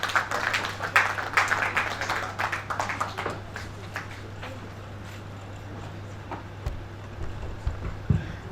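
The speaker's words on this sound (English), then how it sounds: "Can we give her a round of applause?" Audience applause at a chapter chairman's investiture ceremony in Lagos, a dense broadband patter of many clapping hands that peaks early and then thins out toward the end, heard over a steady low hum.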